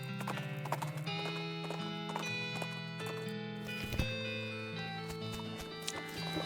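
Horse hooves clip-clop steadily in the video game West of Loathing, a rhythmic, evenly paced trot with a bright tonal game music backdrop and occasional louder hoof hits.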